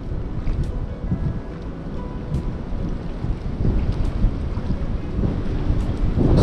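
Steady low rumbling wind buffets the microphone throughout during spin fishing in Kyiv in March, a dense roar with occasional gusts and faint water sounds beneath, no voices.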